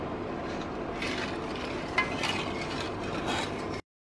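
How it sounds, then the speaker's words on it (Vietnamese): An agar jelly mixture with water is stirred in a pot to dissolve it, a steady scraping, swishing sound that continues evenly for several seconds and then stops abruptly. "Khuấy cho nó tan ra."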